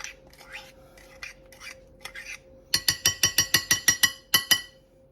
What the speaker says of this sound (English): Stir that up. And that's our homemade dressing.